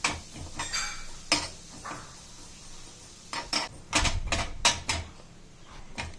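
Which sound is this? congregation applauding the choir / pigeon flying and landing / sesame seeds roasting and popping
sesame seeds roasting and popping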